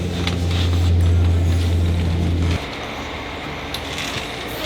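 A forklift engine hums steadily as the forklift drives out from under a Toyota GT86 in a workshop during engine and gearbox removal. The hum is loud and close, then drops to a quieter, lower idle partway through.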